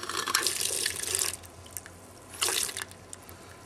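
Liquid trickling and splashing from a line being bled through an opened valve connector, in two bursts, the first longer and the second shorter, with quieter dripping between them.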